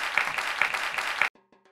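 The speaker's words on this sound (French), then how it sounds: "On applaudit très fort." Studio audience applauding loudly on a French-language TV talk show as guests arrive, steady dense clapping that cuts off abruptly, followed by a few faint musical tones.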